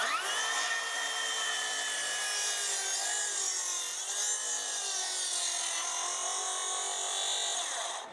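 Plunge saw cutting wood along a marked line for stair building, a steady high whine with harmonic overtones that dips slightly in pitch under load, loud and close, then trails off at the end.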